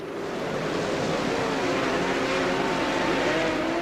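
Formula One race cars pull away at the start of the 1979 Argentine Grand Prix, blending into a dense, continuous roar that stays loud and even throughout, with no speech.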